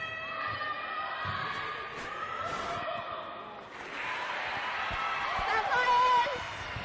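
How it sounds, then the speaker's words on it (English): A large crowd cheers and shouts at a netball preliminary final, the noise swelling steadily and staying loud and busy around the arena, with voices talking over it. "someone in the crowd's pretty loud"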